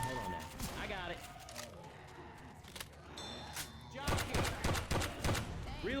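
Gunfire in Left 4 Dead 2 crackles in short, scattered bursts and single sharp shots, with a denser volley near the end, mixed with voices talking over the action.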